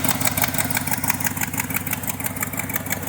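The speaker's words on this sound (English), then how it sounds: "you can actually hear, I think it's coming right there, that exhaust manifold" A truck engine idles steadily up close with an exhaust manifold leak, giving a rough, even rumble with a fast ticking pulse throughout.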